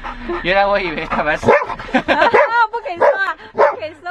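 A golden retriever shut inside a car and frightened by heavy rain barks and yips repeatedly in short bursts, mixed with a person talking and laughing close by.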